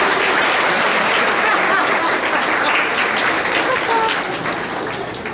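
An audience breaks into loud, dense applause in a conference session, sustained steadily before tapering slightly toward the end.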